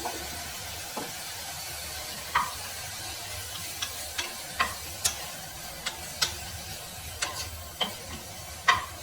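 Vegetables fry in a pan with a steady soft sizzle while a spoon stirs them, giving scattered light scraping clicks against the pan that come more regularly toward the end.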